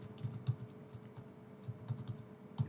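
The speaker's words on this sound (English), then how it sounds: "So I'm just typing here testing description." Typing on a computer keyboard: close, quiet, irregular key clicks and taps at an uneven pace, heard alone.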